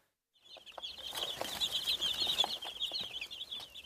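Korean native chickens cluck and murmur close by after a brief silence, a busy overlapping chorus of short clucks and soft calls continuing steadily without any talk.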